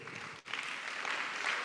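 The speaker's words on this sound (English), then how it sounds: "A little clap would have been okay." An audience applauding at an apostolic and prophetic church summit session, dense, steady clapping heard from a distance with a brief dip before it swells back to a constant level.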